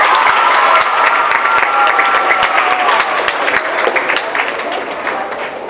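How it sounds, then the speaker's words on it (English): An audience at a school election campaign event claps steadily, a dense wash of hand claps that is loud at first and slowly tapers off, with faint voices underneath. "Please give him a big round of applause."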